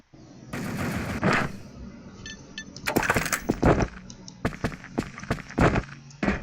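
Bursts of automatic gunfire and single shots from the online shooter WolfTeam crackle in uneven clusters, loud and close, with a few thuds between volleys and no talk over them.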